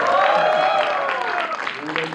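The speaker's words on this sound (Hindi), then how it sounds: "इसके लिए ताली बजाता हूँ" Clapping from an audience at a Hindi film song launch event for the movie Fateh rises as a loud, steady wash, mixed with someone talking over it and a sustained musical tone.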